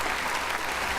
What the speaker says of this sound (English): So please applause for ourselves because this is our right